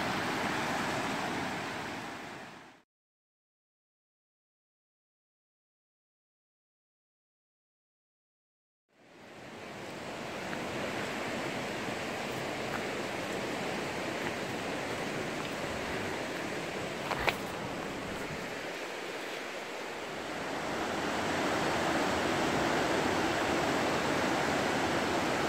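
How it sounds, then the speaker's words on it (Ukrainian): Small roadside waterfall flowing in a steady broadband rush, cut by a stretch of silence mid-way, then resuming slightly louder toward the end. "якийсь водопадик по дорозі невеличкий."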